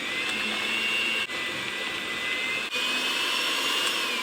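An electric mixer whirs steadily and loudly as flour mixture is beaten into wet banana bread ingredients, with two brief dips in the motor's drone and no talking.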